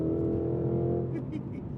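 A sport sedan engine, either a BMW M3 CS, Cadillac CT5-V Blackwing or Alfa Romeo Giulia Quadrifoglio, hums loudly and steadily from inside the cabin under the driver's talk, then its tone drops briefly as if for a shift.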